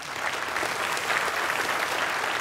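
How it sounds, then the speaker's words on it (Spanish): A crowd applauds steadily, dense clapping filling the room at a constant loud level throughout. "Un aplauso, por favor"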